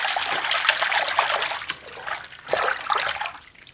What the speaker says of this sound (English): So another thing is to just use your hands and agitate the water.